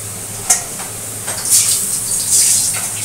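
Menni (royna) fish sizzling as it goes into hot oil in a home kitchen, a sharp crackle at the drop, then a steady hiss and spatter at moderate loudness with no voices.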